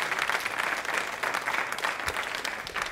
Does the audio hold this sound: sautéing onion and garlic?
no